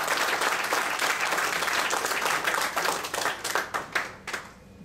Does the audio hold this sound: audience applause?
yes